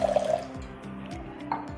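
Water poured from a tumbler into a large cooking vessel to start ragi porridge (ragi koozh), a brief close trickle and splash with faint dripping.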